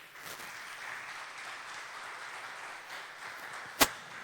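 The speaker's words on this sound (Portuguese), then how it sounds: "Eu quero aplausos para o Senhor." A church congregation at a sermon gives soft, distant applause that continues evenly for a few seconds, with one sharp, brief crack near the end.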